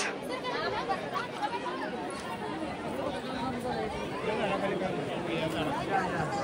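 Steady hubbub of many people talking at once in a crowded temple darshan line, overlapping voices close and continuous without pause.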